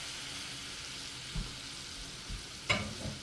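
Roma tomatoes and onion stir-frying in a hot pan, giving a soft, even sizzle with a few dull scrapes and one sharper clack near the end, heard alone without speech.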